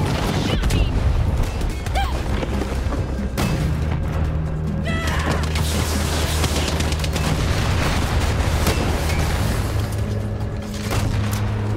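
Rocket launcher blast tearing into a convoy in Far Cry 6, loud booms and crashing impacts over a constant engine-like drone, with faint voices mixed in.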